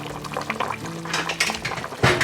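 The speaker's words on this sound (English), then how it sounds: "we are boiling this on high for an hour first" Plantains boiling in a pot on high heat for porridge, giving a steady bubbling, liquid churn with occasional louder sloshes and clatter near the end, close and continuous with no talk.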